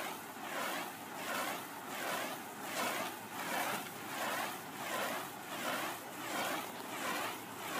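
A lawn sprinkler sprays water outdoors in a steady hissing wash that swells and fades in a regular slow cycle, moderately quiet, with no talk over it.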